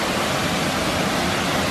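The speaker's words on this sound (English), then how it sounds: "go check out the waterfall" A waterfall on a nature hike makes a loud, dense, continuous rush of water that fills the whole moment, with no talking.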